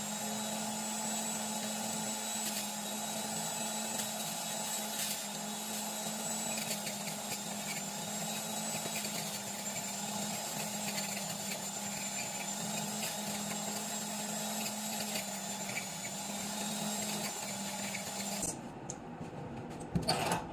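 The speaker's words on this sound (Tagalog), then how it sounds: "So, gagawin natin, ipipress natin dito sa machine na NutriBullet." A NutriBullet blender runs continuously, whirring steadily as it purees green juice of ginger, parsley and coriander leaves, with a constant motor hum throughout before stopping abruptly at the end.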